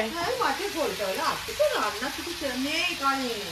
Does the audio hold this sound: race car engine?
no